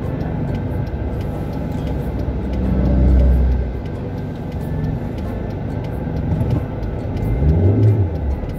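Car engine revving under a learner driver's throttle during a driving lesson, two swelling rises in engine drone over steady low road rumble, moderately loud from inside the cabin.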